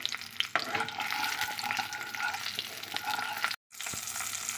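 Dried red chillies and mustard seeds sizzle and crackle steadily in hot oil, close and fairly quiet, with scattered pops and one brief dropout near the end.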